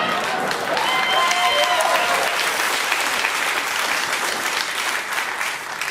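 A crowd applauds in a continuous burst of clapping that stays loud and dense, then thins slightly toward the end.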